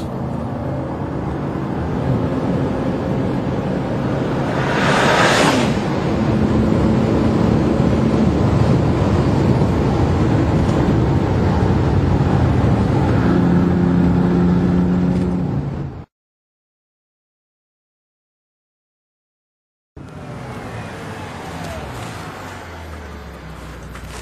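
A Bentley Continental GT Supersports with a quick-shift gearbox lapping the Nürburgring, its engine roaring steadily under heavy wind buffeting with a rising shift sweep, then a sudden gap of silence before the drive noise returns.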